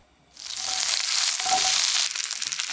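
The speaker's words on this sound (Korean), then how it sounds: "떡도 앞뒤로 살짝씩 구워서 따로 담아냅니다" Sliced Korean rice cakes for tteokguk pan-fry in a little cooking oil, a dense steady sizzle with crackling that starts abruptly after a brief quiet moment and stays loud and close throughout.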